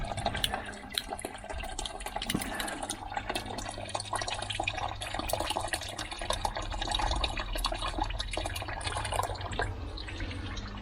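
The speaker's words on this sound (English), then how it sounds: "that's the water that's coming out of it" Water trickles and spatters steadily from opened bleed screws on an upflow filter, with continuous dripping and gurgling, close and moderately quiet, over a low background hum.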